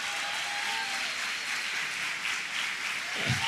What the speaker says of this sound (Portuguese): por favor, uma salva de palmas,